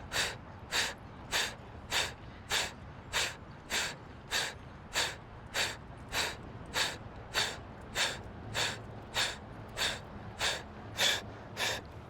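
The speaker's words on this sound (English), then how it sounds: "Fast exhales." Breath of fire yoga breathing during a gentle chair yoga session: about twenty rapid, forceful nasal exhales in a steady, even rhythm, close and clear, with no talking.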